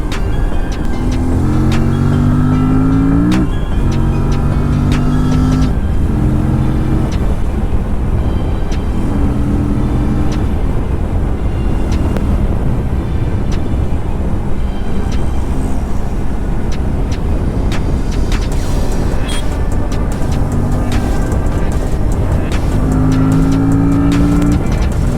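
A 2024 Aprilia RS457 accelerating hard on the road, its engine climbing in pitch through repeated rising sweeps, with quick-shifter gear changes cutting in cleanly between runs, loud and close over steady wind roar.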